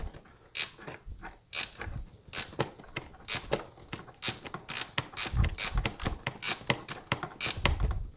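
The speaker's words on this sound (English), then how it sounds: "You could actually, if you have a gear wrench, I think you can do this." A gear wrench ratchets to start a nut during a trunk relocation kit install on a 2018-or-newer Honda GoldWing: a run of sharp, close metallic clicks, irregular at first and then quicker and denser.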